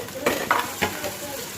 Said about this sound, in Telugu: ఉల్లిపాయ, పచ్చిమిరపకాయ, ఆలు ముక్కలు కొంచెం వేగాక టమాటా ముక్కలను కూడా వేసుకొని మగ్గపెట్టేసుకోవాలి.